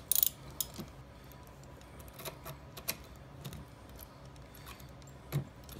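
A gator wrench ratchets as it tightens, giving sparse, quiet metallic clicks and rattles spread unevenly over a low background, with a brief jangle at the start.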